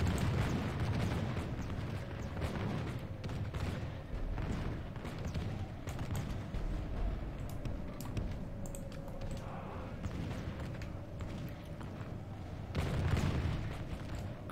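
Artillery fire booms through a Total War battle in the Reikland campaign, a dense continuous rumble of cannon shots and battle din with one heavier blast standing out near the end.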